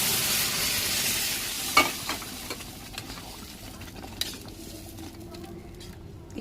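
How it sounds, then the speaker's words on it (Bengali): Gourd dal poured into a hot tempering of cumin, bay leaf and dried chilli, sizzling loudly with a sharp splash and clatter at first, then settling into a steady softer hiss with occasional spoon scrapes. "আর এই লাউ ডালটা দিয়ে দেবো"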